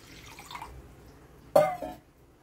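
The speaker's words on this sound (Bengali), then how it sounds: "কড়াতে আমি অল্প জল দিয়ে দিলাম।" A small amount of water goes into a wok on a gas stove in one brief splash and hiss after a quiet moment, then fades out.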